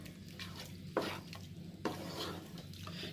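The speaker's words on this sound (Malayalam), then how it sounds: "നമ്മൾ അതിനെ നന്നായിട്ട് ഇളക്കി യോജിപ്പിക്കണം" A spoon stirs and mixes soya chunks roasting in a pan with curry leaves and coriander leaves, two distinct scraping strokes over a soft continuous sizzle, close and fairly quiet, no talking.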